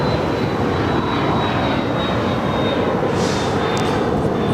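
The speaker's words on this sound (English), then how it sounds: "Embraer E175LR going to be crossing over 25 right, heading up to the gates of Terminal 2 or 3 there on the north side." Delta Connection Embraer E175LR regional jet crossing runway 25R at LAX toward the Terminal 2 or 3 gates, its engines a steady, loud, broadband roar with a thin high whine running throughout.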